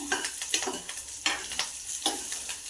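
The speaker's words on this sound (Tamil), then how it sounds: "லாஸ்ட்டில் மட்டும் கொஞ்சம் லைட்டாக போட்டு ஃப்ரை பண்ணிக்கோங்க" Food sizzles and crackles in a hot pan while a utensil scrapes and stirs in repeated strokes, close up, with no talking, while ingredients are lightly fried for mutton trotter soup.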